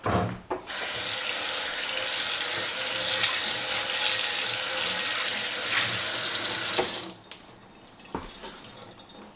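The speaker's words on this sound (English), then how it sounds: "Just need to rinse off." Running tap water rinses a cast iron pan, a loud steady gush with splashing that lasts about seven seconds before the flow is shut off, followed by a few drips and light knocks.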